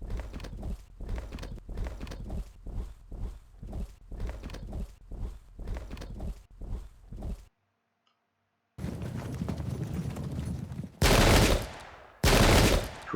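Musket volleys from troops in a Pike and Shot battle between Irish Jacobites and Russians, heard first as a steady run of short thumping shots, then a pause, then a denser crackle ending in two loud bursts.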